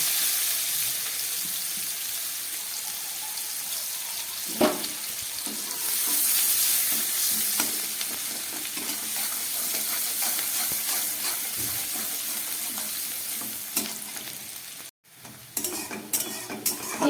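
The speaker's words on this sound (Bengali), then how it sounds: "পেঁয়াজ রসুনটা অনেকটাই ভাজা হয়ে গেছে।" Crushed garlic and onion fry in a pan with a continuous sizzle, broken by scraping stirs and a few sharp clatters toward the end.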